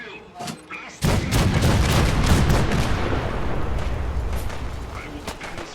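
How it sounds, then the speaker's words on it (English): Cannons on the USS Constitution in Fallout 4 fire in a sudden heavy boom, followed by a sustained, rumbling barrage of blasts that slowly tapers off, with a voice faintly audible beneath. "The cannons are ready. Fire at will. Blast them."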